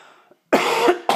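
A man coughs indoors, two sharp, loud, close bursts in quick succession after a moment of near quiet.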